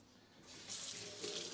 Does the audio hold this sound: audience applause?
no